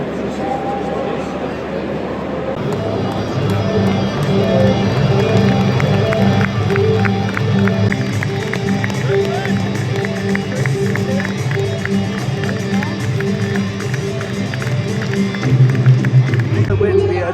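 Scattered clapping from fans as players walk out at a Bundesliga match between SC Freiburg and Mainz 05, a broad, steady crowd texture with murmuring, otherwise oddly subdued without chanting.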